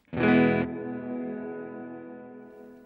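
A single guitar chord struck with a dark, muffled tone, cut short and followed by a long, smooth reverb tail fading slowly, from a Strymon Cloudburst pedal with tone control fully dark.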